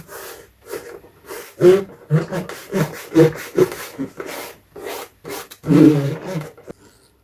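A bare hand rubs vinyl covering onto the wooden case of an RCA Victor 26BP radio on a bench edge, giving uneven, close-up scuffing and rubbing strokes with brief gaps between them.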